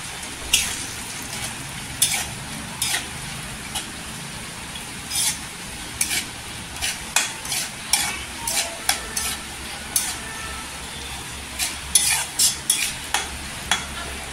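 Sliced almonds and raisins fry in fat for rava ladoo while a spatula stirs, producing a soft sizzle under repeated scraping clinks against the pan, close and unaccompanied by speech.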